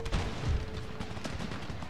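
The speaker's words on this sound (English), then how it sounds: "Canister shot." Canister shot cannon fire in the strategy game Darthmod Empires, muffled booming gun blasts crowding together in a rumbling volley near the start and then trailing into a dense low roar.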